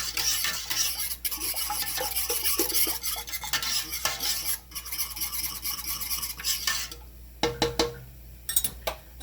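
A whisk scrapes and stirs peach peel jelly mixture in a metal pot, producing continuous rasping swirls with intermittent clinks against the sides, close-up, pausing briefly before a few sharp taps at the end.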